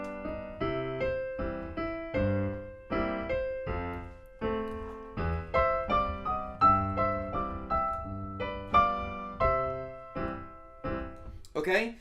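Piano plays the second part of Scott Joplin's ragtime piece The Entertainer slowly, with steady bass-and-chord accompaniment under a syncopated melody. The playing is clear and close, with a quick run at the end.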